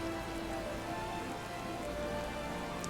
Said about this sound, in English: Even when it's raining,